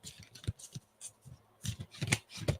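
Tarot or oracle cards shuffled by hand in a series of soft riffling bursts and taps, close and fairly quiet, with no talking.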